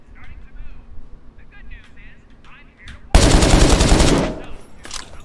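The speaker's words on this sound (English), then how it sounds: "Can you hear my gunshots?" In the video game The Culling 2, a sustained burst of rapid gunfire erupts after a few seconds of quiet background chatter, loud and close, lasting over a second before tapering off.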